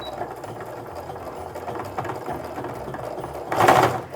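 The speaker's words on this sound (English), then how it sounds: "I'm going to reinforce those stitches quite a bit by sewing back and forward" A sewing machine stitches a canvas apron, running back and forward to reinforce the seam: a steady mechanical whirr of rapid needle strokes, briefly pausing and shifting, then a louder burst near the end.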